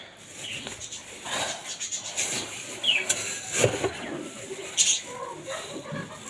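Pigeons coo softly in low, rolling calls amid rustling and occasional wing flutters, fairly close.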